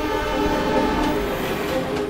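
A freight train pulling into a distribution centre's railway line at Daventry, with a steady rumbling roar and sustained tonal hum, loud and continuous throughout.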